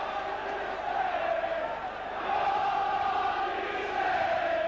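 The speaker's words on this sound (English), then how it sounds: "This crowd really getting behind the Saints this afternoon." A large crowd of about 15,000 at a St Helens versus Australia rugby league match roars and chants for the Saints, a sustained mass of voices rising and swelling in waves.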